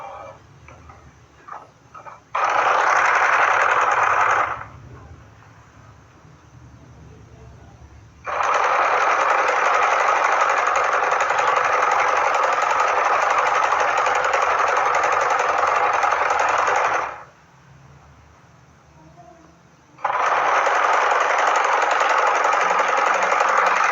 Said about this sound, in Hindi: इसके ऊपर से फिर से सिलाई चला देंगे